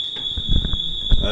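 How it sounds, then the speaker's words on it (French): A fire alarm rings in a lecture hall as a steady, piercing high electronic tone running through the whole moment, beneath someone speaking French. "Pour essayer d'avoir moins le bruit de l'alarme que dans le micro d'ambiance."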